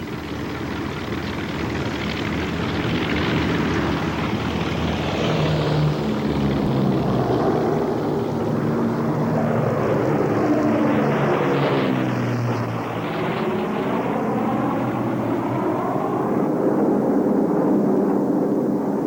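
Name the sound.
fleet of C-47 transport planes flying overhead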